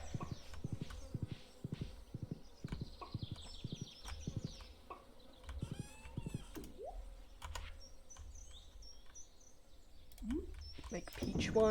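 Horse hooves clip-clopping in the video game Stardew Valley, a quick regular run of hoofbeats that stops, then resumes briefly, mixed with small game chimes and effects while a person talks over it.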